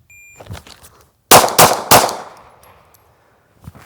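A handgun fires during a shot-timer draw drill on a range. Three loud, sharp shots crack in quick succession close to the microphone, followed by a fading echo.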